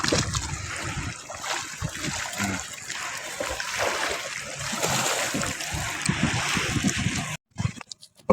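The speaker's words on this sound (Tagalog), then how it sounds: "Malakas ang alon." Strong ocean waves wash and splash continuously up close, a rough churning surge that stays loud before cutting off abruptly near the end.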